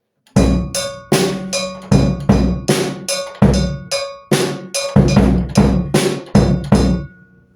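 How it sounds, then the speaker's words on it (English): A metal cowbell muffled with thick layers of tape is struck eleven times in a steady rhythm, each hit a loud, close, clanking knock that decays quickly, with no talking. "I also have to mention that I've got a cowbell right here,"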